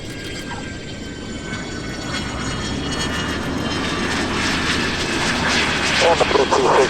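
A light aircraft's engine drones steadily, building gradually as the plane comes in to land at EAA AirVenture Oshkosh, with faint radio-like chatter and background activity around it.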